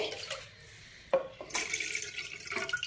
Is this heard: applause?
no